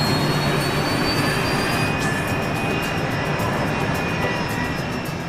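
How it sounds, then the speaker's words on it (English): BAE 146 commuter jet with quiet turbofan engines, a steady, loud broadband roar with a faint high whine running through, continuous and unbroken with no talk. "they're piloting a British-built BAE 146 commuter jet. With quiet turbofan engines"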